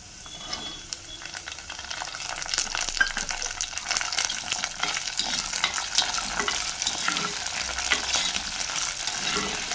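Garlic and onions sauté in a pan with a constant close sizzle while a spoon scrapes and stirs in a quick, uneven rhythm, with no talking.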